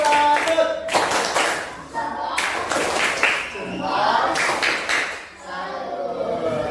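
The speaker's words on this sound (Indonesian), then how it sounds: "Beri tepuk tangan untuk kita semua" Schoolchildren in a classroom clapping in short, uneven bursts with distinct hand slaps, close and lively, with voices talking and calling out between and over the claps.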